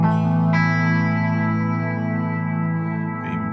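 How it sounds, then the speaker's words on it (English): An electric guitar played through an MXR M300 reverb pedal set to its most intense, way-out reverb setting: a sustained chord blooms into a dense, shimmering wash that lingers and slowly decays, with a light fresh pick near the end. "that very intense reverb setting is set at toe level, and then at heel level"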